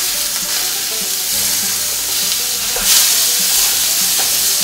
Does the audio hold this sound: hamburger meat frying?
yes